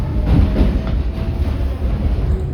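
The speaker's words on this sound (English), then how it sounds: "Alright, this D train." A New York subway D train running on the F line toward Coney Island from Kings Highway gives a loud, continuous rumble and rattle from inside the moving car.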